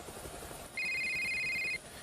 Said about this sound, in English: After doing all this, his phone rang.